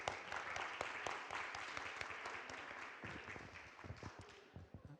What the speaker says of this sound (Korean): 모두 박수로 크게 시작하도록 하겠습니다